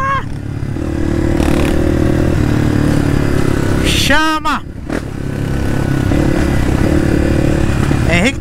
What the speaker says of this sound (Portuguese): Agora acelera, a moto escorrega.